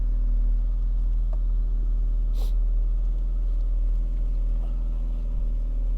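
A BMW X3 M Competition reverses slowly out of a space, its engine holding a steady, low idle rumble close by with no change in pace throughout.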